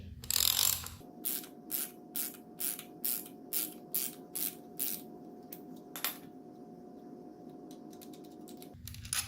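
Releasing the timing belt tensioner lock on an Audi RS6 brings about ten evenly spaced ratchet-like clicks, close and fairly quiet, over a steady low mechanical hum, then a few scattered lighter ticks.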